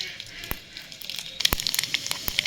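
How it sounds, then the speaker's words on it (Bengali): Panch phoron and dried red chillies sizzle in hot oil with a soft, steady hiss dotted with sharp pops and crackles, close by. "ফোড়নে দিয়ে দেবো পাঁচ ফোড়ন আর শুকনো লঙ্কা"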